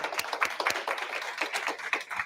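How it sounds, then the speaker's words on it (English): Audience applause closing a talk at a monthly real estate group meeting, a dense stretch of hand claps at steady volume throughout. "A round of applause."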